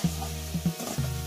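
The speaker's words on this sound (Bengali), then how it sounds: "আমি নারকেলটাকে ভালো করে মিশিয়ে নিচ্ছি।" Grated coconut being stirred with jaggery in a hot pan, giving a steady low sizzle broken by a few scraping stirs, close and moderately loud with no talking.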